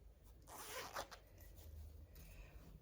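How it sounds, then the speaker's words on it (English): A zipper is pulled closed in a couple of quick, close zipping runs, a bright ratcheting rasp that fades into quiet rustling. "So I'm going to do that zip up again."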